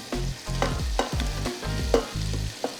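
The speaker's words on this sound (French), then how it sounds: "on a les oignons qui sont en train de commencer à suer" Onions and chestnuts sweat in a pot for chestnut soup, giving a steady close sizzle broken by repeated scraping stirs of a spoon against the pot bottom.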